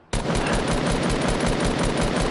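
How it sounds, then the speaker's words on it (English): Video game gunfire, a dense unbroken burst of rapid automatic shots that starts abruptly and stays loud and close for a couple of seconds. "Why are you shooting me down?"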